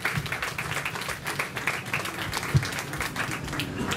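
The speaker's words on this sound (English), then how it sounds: "Let's give them another round of applause" A county fair audience claps through a round of applause at a hypnotist stage show, a steady patter of many hands at moderate volume with no pauses, one sharper clap standing out midway.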